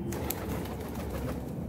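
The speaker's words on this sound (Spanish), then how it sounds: "Hay palomas esperando comida y les acabé de dar comida." Pigeons coo softly and steadily nearby while waiting for food, a low, murmuring call with a faint background hum and no talking.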